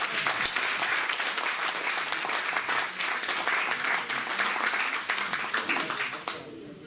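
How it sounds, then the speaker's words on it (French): An audience at a lecture on Ottoman Judeo-Spanish communities in Marseille breaks into sustained, dense applause, many hands clapping steadily for several seconds before tapering off at the end. "Moi je voudrais d'abord vous applaudir pour le travail que vous faites."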